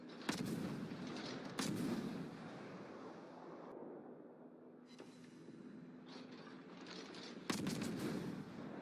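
Naval guns firing shells in the World of Warships game, several heavy booming salvos at irregular intervals over a low rumbling background, loud and close.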